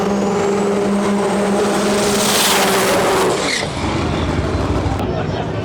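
The Saki Bomb drag racing car, Outlaw versus Extreme class, rumbles and revs near the line at World Cup Finals qualifying, a loud continuous engine drone with a rising whine, an announcer talking over it.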